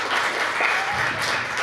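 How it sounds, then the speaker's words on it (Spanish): A brief burst of audience applause at a tech incubation program presentation, steady clapping filling the room with no voices over it. "Okay, aplausos."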